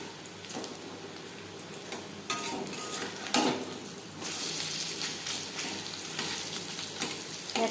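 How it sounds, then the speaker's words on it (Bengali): Jute leaf pakoras fry in hot oil over a medium flame, a steady close sizzle with occasional bursts and a few utensil clinks, no talking. "বড়া বা পাকোড়া ভাজবো মিডিয়াম ফ্লেমে।"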